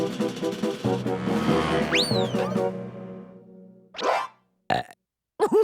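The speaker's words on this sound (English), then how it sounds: "Did you just burp?" A long, drawn-out burp with a rising whistle-like squeak in the middle, followed by a few short, abrupt sounds separated by silence.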